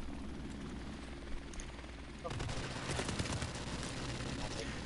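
Helicopter rotor drone in the Call of Duty video game, a steady whirring mix with bursts of gunfire layered on top and growing louder partway through.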